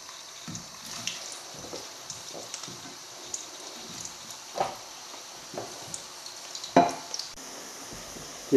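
Chips fry slowly in beef dripping with a soft, low bubbling sizzle, and occasional close clinks and stirring knocks break through it.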